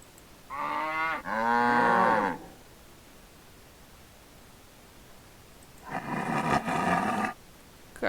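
Cows moo in the Nancy Drew video game The Captive Curse, two long low calls several seconds apart, each loud and drawn out against a quiet background.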